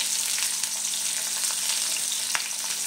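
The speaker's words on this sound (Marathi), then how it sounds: "कढीपत्ता, चांगला असं फ्राय करून घ्यायचं आहे आपल्याला।" Green chillies and curry leaves fry in hot oil, giving a steady, dense sizzle close by with faint stirring taps over it.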